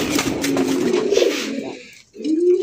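A male pigeon of a crested black breed coos close by, a low rolling throaty call that swells and falls, pauses briefly, then starts again.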